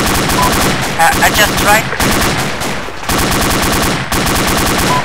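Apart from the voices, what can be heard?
medium machine gun fire in the video game Arma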